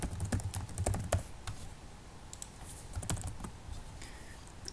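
Quick bursts of typing on a computer keyboard, close and clear, with clustered key clicks, short pauses and a few louder keystrokes, no voices.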